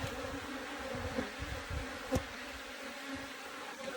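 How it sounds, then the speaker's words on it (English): A swarm of Africanized bees from a hive in a water meter box buzzes continuously. The soft, dense hum holds at a steady level, with a few individual bees passing close. "There's still a bunch of bees everywhere."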